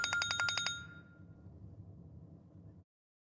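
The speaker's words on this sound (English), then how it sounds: "is that like a default Apple like alarm ringtone thing?" A bright, bell-like ringtone resembling a default Apple alarm plays in a rapid repeating burst of chimes within a music video, then gives way to a low soft backing for a couple of seconds before cutting off.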